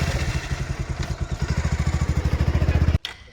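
A motorcycle engine putters close by on a village ride with an even, rapid thumping beat that grows slightly stronger, then cuts off abruptly near the end.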